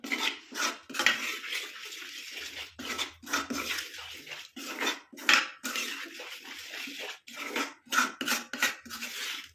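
Indigo powder hair paste being stirred in a bowl, giving a continuous run of soft wet scraping and clinking strokes at close range with no talking.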